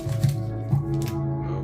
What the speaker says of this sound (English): let's do the usual and just shuffle the packs